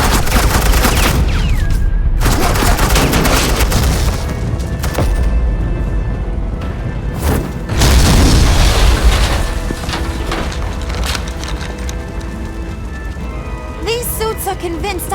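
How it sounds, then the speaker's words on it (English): Sustained suppressing gunfire in the Batman: The Enemy Within video game, rapid bursts of shots and booms rattling almost continuously, loud and close, with a brief lull before the firing resumes. "suppressing fire."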